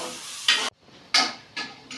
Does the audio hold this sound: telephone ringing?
no